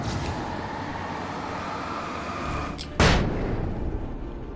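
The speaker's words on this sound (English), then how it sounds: "Alright, I had a flashbang." A flashbang goes off in the Alan Wake video game, one sharp loud bang cutting through a steady rumbling background, followed by a lingering noisy tail.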